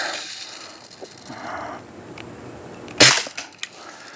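A Daisy Red Ryder BB gun is fired at a cap, giving one sharp snapping crack of the shot hitting its target, followed by a couple of smaller clicks, over faint background noise.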